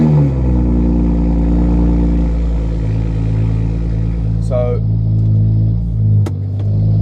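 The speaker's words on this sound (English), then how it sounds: "it's decatted and it's got a custom exhaust, which is fine. It makes an amazing sound." A decatted BMW M235i with a custom exhaust drones loudly and steadily while driving, its low engine note shifting partway through, with brief clatters near the end.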